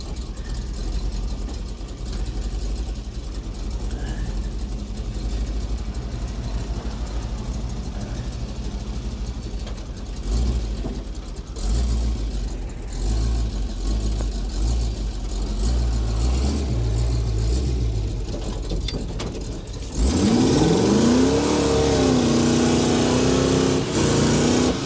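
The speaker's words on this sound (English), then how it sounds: "Let's see if I can do a burnout." The engine of a 1970 Chevy Blazer idles with a rough rumble and rises in a few revs during a burnout attempt. Near the end a louder, rising whine and tire noise break in abruptly.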